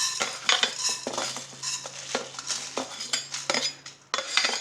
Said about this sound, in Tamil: ஒரு கேஜிக்கு எடுத்ததுனால மொத்தமாக போட்டு வறுக்கிறேன்